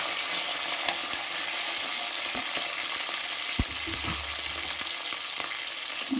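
Onions with curry leaves sauté in a pan for Mughlai chicken biryani, a dense continuous sizzle with a few soft spatula taps and one brief low knock, close and steady, no voices.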